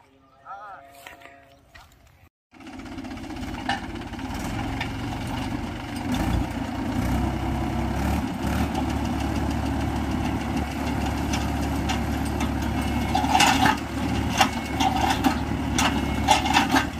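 A tractor engine idles and chugs steadily in a field being ploughed, starting abruptly after a brief quiet moment, with a continuous low rumble and knock while people talk nearby.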